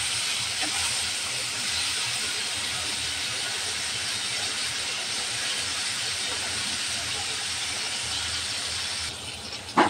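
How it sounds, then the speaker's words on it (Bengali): Hilsa fish frying in hot oil, a loud steady sizzling hiss that continues evenly, ending with a brief clatter near the end. "মাছটা একবার ভাজা হয়ে গেছে, উল্টিয়ে নেব।"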